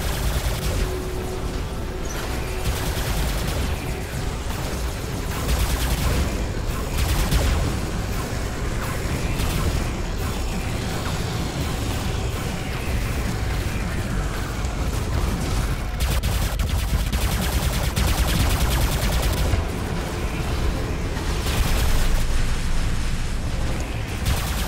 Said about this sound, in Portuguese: De onde que tá vindo esses tiros?